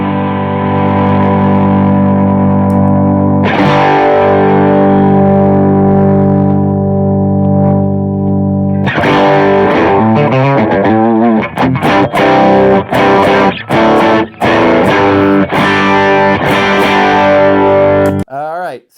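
An electric guitar runs through a TMG Drive overdrive pedal on a worship pedalboard, first ringing out sustained, gritty chords, then switching to choppy, rhythmic strummed bursts that stay loud and close until a sudden cut.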